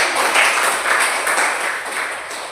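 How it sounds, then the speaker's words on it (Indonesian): Classroom applause for a student group after a presentation, a dense, fairly loud patter of many hands clapping with gentle swells in intensity throughout. "Tepuk tangan untuk kelompok"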